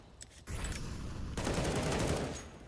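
Rapid CS:GO gunfire on the Mirage map during a BIG versus Ninjas in Pyjamas match sounds as a dense, continuous burst of close, loud automatic shots that holds for about two seconds before easing off.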